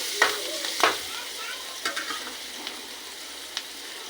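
Chili and onion frying in hot oil in a pan for Maggi noodles, with a soft, steady sizzle broken by a few sharp scrapes and clinks of stirring.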